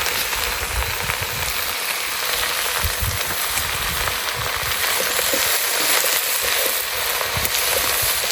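Vegetables with onions and salt sautéing in a pan in a South African village kitchen, a loud continuous sizzle and crackle with faint scraping, steady throughout with no talking.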